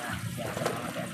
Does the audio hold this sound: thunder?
no